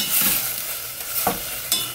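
Dried pollock being stir-fried in a hot pot with hot broth poured in, giving a steady sizzle with a few brief scraping stir strokes, close and fairly loud.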